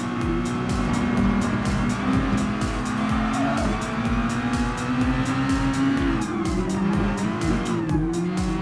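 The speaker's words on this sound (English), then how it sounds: "driving the Red Bull X2014 Junior is quite very fun for it" A Red Bull X2014 Junior race car driven in Gran Turismo Sport, a loud continuous high-revving engine with rising and falling pitch through gear changes, and tire squeal at corners.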